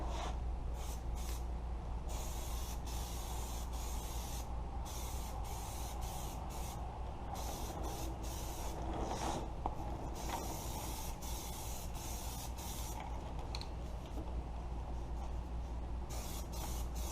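An aerosol can sprays light coats onto headlight tubes in repeated short hissing bursts with brief gaps between them, close and fairly quiet over a low steady hum.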